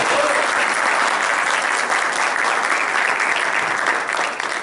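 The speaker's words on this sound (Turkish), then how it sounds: "sıcak bir alkış rica" Warm applause from a large audience at a tourism industry event, a dense, sustained patter of clapping that stays loud and even without pause.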